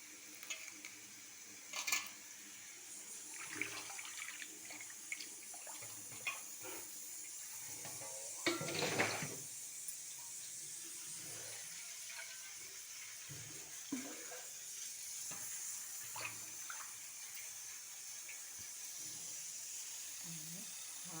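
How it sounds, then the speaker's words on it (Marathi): Tomatoes and coriander being washed under running water, a faint continuous tap stream with soft splashing and handling noises throughout. "टोमॅटो धुवून घेत आहे आणि कोथिंबीरही धुवून घेत आहे."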